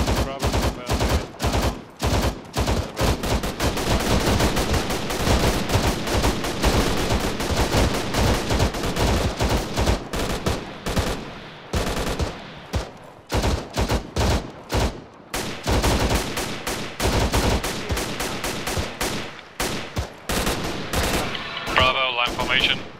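Rapid bursts of automatic rifle and machine-gun fire crackle through a military squad operation in the video game Arma 3, loud and dense throughout with brief pauses, occasional voices mixed in.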